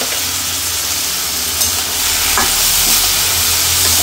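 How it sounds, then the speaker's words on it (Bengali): Carrots, green chillies and ground spices fry in oil in a wok, a steady loud sizzle with stirring scrapes running throughout. "এই পাশে কড়াইয়ের মধ্যে আমি তেলটা দিয়ে দিচ্ছি, গাজরগুলো দিয়ে দিচ্ছি, সব গুঁড়ো মশলাও দিয়ে দিচ্ছি"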